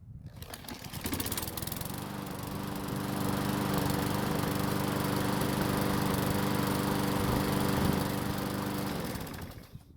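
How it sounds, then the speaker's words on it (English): A hot lawn mower engine at near operating temperature catches after a soft pull and runs at a steady, loud, buzzing drone close by throughout. "the engine starts easily with a very soft pull when it's hot or cold"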